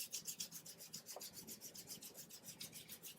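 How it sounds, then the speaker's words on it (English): Two palms rub briskly together during a yoga session, a close, soft, rhythmic swishing of about a dozen quick back-and-forth strokes, faint and steady with no talk. "Rub the hands."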